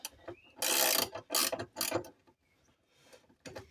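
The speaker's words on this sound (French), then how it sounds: "Donc je vais essayer de desserrer pour recentrer ma rondelle" Mechanical ratcheting from a wrench loosening a nut to recenter a washer on a Peugeot 205 GTI engine torque mount, in several loud bursts of clicking separated by short pauses.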